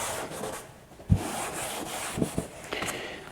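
An eraser rubs writing off a board during a maths lesson, giving a soft, close scrubbing swish with a few sharper knocks and strokes over about three seconds.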